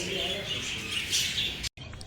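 Pet birds at a bird farm, including lories, chirp and twitter continuously in a dense nearby chorus, with a brief drop-out near the end and a voice faintly underneath.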